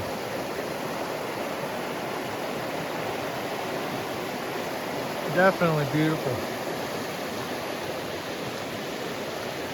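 A clear mountain creek in Montana rushes steadily and close by as a broad, constant wash of flowing water, with a brief spoken remark partway through.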